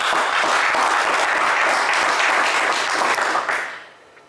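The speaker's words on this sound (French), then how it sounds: "on vous applaudit très fort" Studio audience of a French television game show applauding a contestant, a full steady wash of clapping that holds strong then fades out quickly in the last second.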